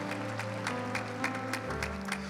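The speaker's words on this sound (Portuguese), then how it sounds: "Vamos aplaudir isso com força, com ânimo" A Catholic congregation at a family Mass claps with energy in a quick, regular rhythm over sustained music, the claps landing as repeated sharp bursts.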